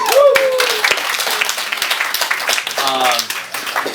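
Applause from wedding guests after a co-best man is introduced at the reception, steady clapping filling the room with cheers and whoops layered over it.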